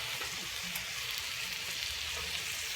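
Chicken and broccoli sautéing in a pan over low heat, a steady close sizzle and crackle with soft bubbling underneath, continuous and even throughout with no talking.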